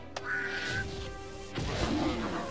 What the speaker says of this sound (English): So let us throw the duck!